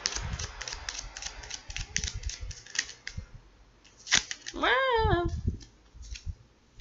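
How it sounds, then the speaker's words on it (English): Tarot cards are shuffled on an ottoman in quick bursts of crisp, papery flicking and clicking, close up. A short rising chirp follows the last burst. "we're going to do 3 more shuffles"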